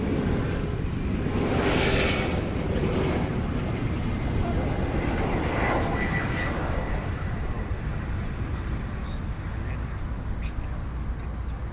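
An American Eagle CRJ 900 regional jet rumbles steadily at an airport, a broad constant engine roar at moderate distance throughout, with faint background sounds mixed in.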